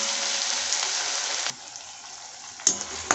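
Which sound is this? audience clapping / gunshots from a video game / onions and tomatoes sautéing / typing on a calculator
onions and tomatoes sautéing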